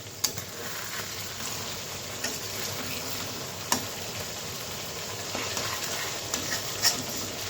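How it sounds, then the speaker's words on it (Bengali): Gulsha tangra fish fry softly in a pan as they are turned over, with a low constant sizzle broken by occasional sharp clicks of a spatula against the metal. "ঢাকনাটা উঠিয়ে মাছগুলো একটু ভালোভাবে নেড়ে নিই।"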